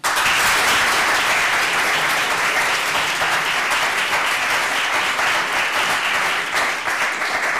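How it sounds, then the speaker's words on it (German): Sustained, loud audience applause at a regional forum in Valais, a dense even wash of many hands clapping without letup for the full length. "Ich glaube, es scheint auch nochmal einen Applaus verdient."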